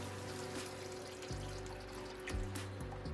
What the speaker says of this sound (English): So now we're going to come behind that with our vegetable broth.